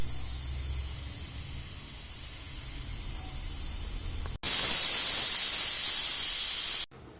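Pressure cooker whistling steam over goat intestines being boiled for kudal kuzhambu: a steady low rumble, then a sudden loud, sustained hiss bursting out for about two seconds before cutting off abruptly.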